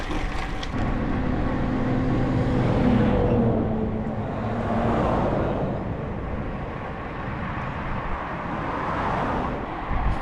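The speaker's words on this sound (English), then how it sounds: "To everyone who doesn't know Mecklenburg-Vorpommern, there's so many cars here." Steady road traffic roars past on a road in Mecklenburg-Vorpommern, with several cars swelling and fading in overlapping passes, loud and continuous for the whole stretch, heard from a fixed gear bicycle.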